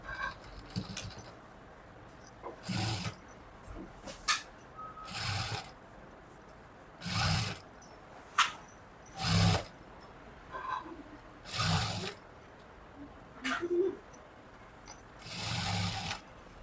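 A sewing machine runs double stitches along folded piping on a heavy-size blouse, in short close bursts separated by quiet pauses, with no talking.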